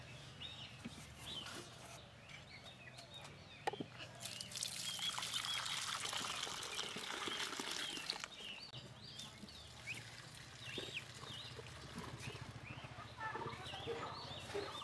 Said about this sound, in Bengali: আমি একটা পাত্র থেকে আর একটা পাত্রে এভাবে উঁচু থেকে ঢেলে এভাবে ফেটাবো